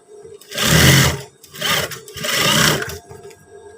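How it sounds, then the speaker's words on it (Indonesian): Sewing machine stitching trousers, three loud whirring runs of about a second each separated by short pauses, close up with no talk. "Setelah itu kita jahit seperti ini"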